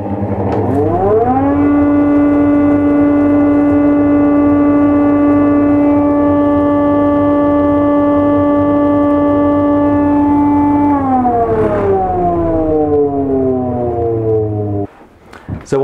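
A Metabo SPA1200 240V chip extractor motor spins up with a rising whine and holds a loud, steady tone for about ten seconds. It then winds down with a falling pitch.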